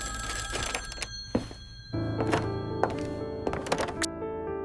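An old-fashioned telephone bell rings in a manor house setting, with rapid metallic trills in bursts, one stretch ending as a clunk cuts in and a continuing hum follows, close and clear without voices.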